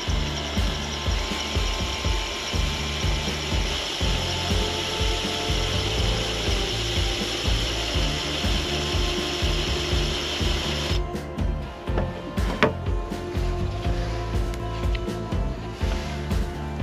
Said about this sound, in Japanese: この傷を起点にして、徐々にドリルを起こし直角に当てていきます。